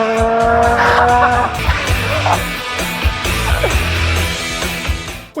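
A Red Bull Formula 1 race car roars past at high speed, its engine note sweeping and shifting with tire squeal, loud and close throughout.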